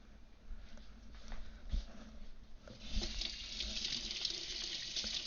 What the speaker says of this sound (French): On les rince un petit peu.